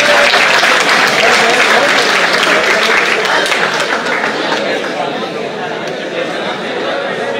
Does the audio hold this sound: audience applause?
yes